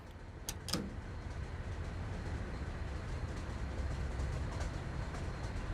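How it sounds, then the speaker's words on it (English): A runaway freight train in a Trainz simulation of Cajon Pass rumbles steadily along the tracks, a constant low mechanical roar with a couple of brief higher rattles near the start, close and fairly loud. "But the train just keeps going faster."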